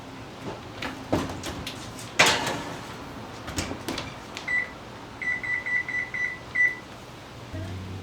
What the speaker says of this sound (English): now we're just going to pop these in the oven to bake